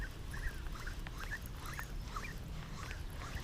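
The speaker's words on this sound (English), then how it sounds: "Got a couple of geese hanging out with me." Geese near the water on a quiet morning lake, giving several short honks and soft calls at moderate distance over a faint steady background.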